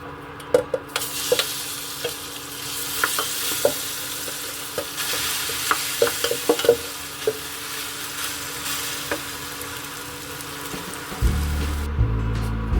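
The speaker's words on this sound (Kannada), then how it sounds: "ನೆಕ್ಸ್ಟ್ ಇವಾಗ ಕೆಂಪಕ್ಕಿನ ಹಾಕೋತೀನಿ." Red rice stirred in a pan while cooking payasam, village style, with a faint sizzle and scattered scraping and clinking of a spoon against the pan, moderately close, ending in a burst of louder noise.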